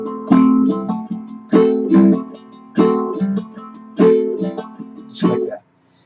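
Ukulele strummed in a Hawaiian gallop pattern with hammer-ons: five bright, ringing strum bursts evenly spaced, each a quick cluster of down-up strokes that decays before the next, close and clear with no talking.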